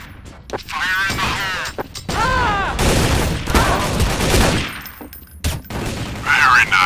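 Gunfire rattles in Counter-Strike: Source on the Havana map with bots: repeated bursts and volleys of rapid shots, close and loud, broken by short gaps, with game voices heard in between.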